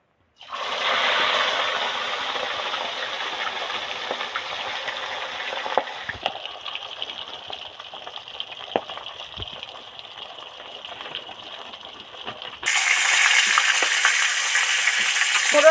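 Marinated katla fish pieces, salted and coated in chili, frying in hot oil: a loud continuous sizzle that softens slightly midway, with a few clinks and taps, then surges brighter and louder as more fish goes in.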